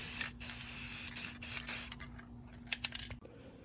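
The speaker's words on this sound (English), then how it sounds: "Now we're just rattle canning all the separate parts." A rattle can sprays paint onto separate parts of a sign in steady hissing bursts with brief pauses between them, close and continuous, ending in a few light clicks and knocks.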